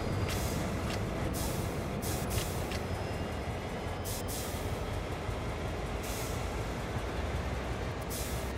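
Air brakes releasing on a locomotive in Train Sim World 2, a steady broadband hiss of escaping air with a low rumbling undertone that holds at an even level throughout, with no talking.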